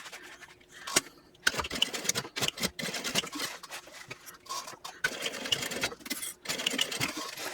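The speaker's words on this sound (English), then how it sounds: "And now I want to sew across here, stopping right at that intersection again on both sides." A sewing machine stitches across a fold-and-zip backpack in short bursts of rapid mechanical whirring, with brief pauses between runs, close and loud.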